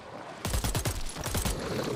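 Rapid gunfire from a gun in the horror video game The Sinking City, a dense burst of repeated shots lasting about a second, loud and alone with no talking.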